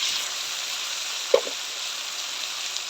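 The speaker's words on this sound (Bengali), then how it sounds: "মশলাটা ভালো করে কষাই নেব" Ground spices (turmeric, chili and coriander powder) sizzle in a pan for a vegetable curry: a steady, soft frying hiss with one small plop partway through and no voices.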